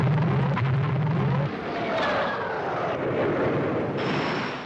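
A French SO-6000 Triton jet aircraft roars past, a loud broad whoosh of engine noise that swells and shifts in pitch as it flies by, with a steady high whine entering near the end.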